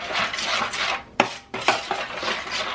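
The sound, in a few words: ingredients being mixed together in a bowl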